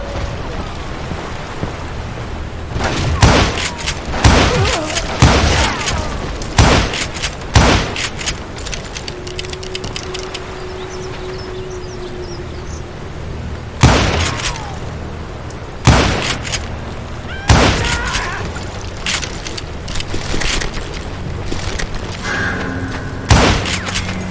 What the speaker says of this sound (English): now that the shooting had started, there was no backing down